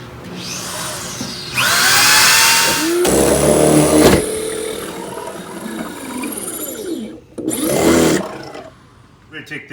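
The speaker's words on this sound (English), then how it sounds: "That's where we'll drill the pilot hole." A power drill bores a pilot hole through a wall for a cold air return, running in several loud whirring bursts of a second or more, with someone talking between them.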